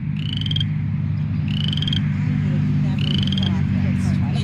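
Frogs croak at Fearson Creek Fen in three evenly spaced bursts of buzzy trilling calls, each about half a second long, rising clearly over a steady low hum.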